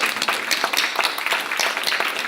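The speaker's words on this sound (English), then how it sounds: "a round of applause" An audience applauds a hometown hero with a steady, dense wash of clapping that holds at an even level for a couple of seconds.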